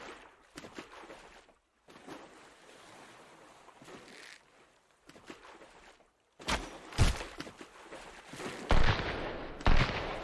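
Gunshots in the survival game Sunkenland: a few scattered sharp cracks over a quiet sea-and-wind bed, then louder bursts of several shots near the end, no voices.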